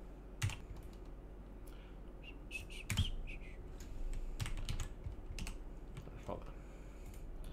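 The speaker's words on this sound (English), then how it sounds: "I get all keyboard crazy and I start like using like a million shortcuts." Quick bursts of computer keyboard typing, sharp clicks in short clustered runs as shortcuts are entered, close to the microphone over a low steady hum with faint background sounds.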